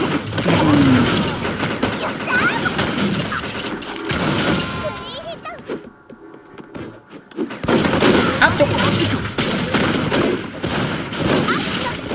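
Rapid automatic gunfire in the MicroVolts Recharged shooter game, dense bursts over game effects with someone talking throughout, a brief lull in the middle before the shooting resumes.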